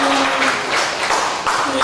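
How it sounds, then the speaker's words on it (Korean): Worshippers at a Sunday church service in Korea clap together in a brief, loud, dense burst of applause that holds steady for its whole short length. "박수하겠습니다."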